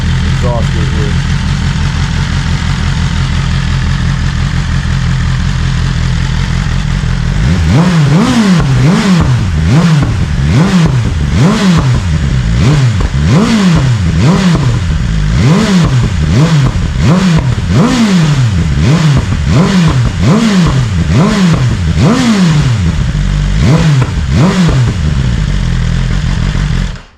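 A BMW S1000RR sport bike on its stock exhaust, with the actuator cables disconnected, idles steadily and then blips through a rapid series of sharp, loud revs, close up and with no voices.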